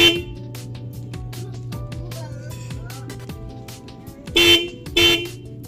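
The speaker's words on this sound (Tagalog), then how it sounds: "ititesting na natin yung ating busina" A battery-powered, remote-controlled horn noisemaker rigged for New Year gives two loud, short honks near the end, after a steady low electrical hum while people talk nearby.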